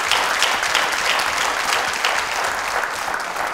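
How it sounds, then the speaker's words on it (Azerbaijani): Audience applause on a TV music show welcoming the artists, a steady, dense wash of clapping that holds evenly throughout without talk. "Mən isə bura gələn bizim əziz sənətkarları və sənətçiləri ürəkdən alqışlayıram."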